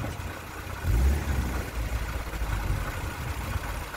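A small Ford 1.1 Kent car engine idles steadily close by, a low rumbling hum with a brief swell in loudness near the start.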